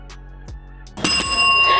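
A quiz show buzzer bell rings once, a bright sustained ding that starts sharply and hangs over a low hum, during a car-knowledge quiz challenge.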